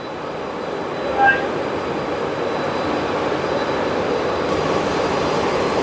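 The M Khan 7 river launch runs at full speed on a river trial, its engine a loud, steady broadband roar filling the whole stretch, with a brief faint whistle-like tone early on.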